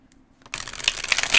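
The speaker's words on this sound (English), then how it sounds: "The shuffling should be very smooth." Tarot De Toro cards, a flexible bendy stock, being shuffled by hand: a faint quiet start, then a close, steady papery riffling rustle that builds toward the end.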